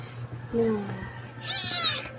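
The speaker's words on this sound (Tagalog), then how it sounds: "Ito po yung mga pusa. Ito po pusa namin." Pet cats in a family home meow, a low drawn-out call near the start followed by a brighter, higher cry, both short and fairly close over a faint steady background hum.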